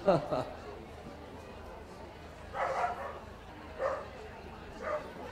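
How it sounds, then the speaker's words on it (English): A miniature wire-haired Dachshund at a dog show gives a few short, high yapping barks in separate bursts, fairly faint against the hall's background with voices nearby. "The best of breed winning wire, miniature wire-haired Dachshund."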